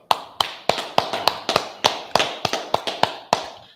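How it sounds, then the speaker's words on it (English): About a dozen single, sharp claps at an uneven, loose pace, near and distinct rather than a dense wash of applause, as if one or a few people clap along at a Biblical law class gathering. "Clap it up."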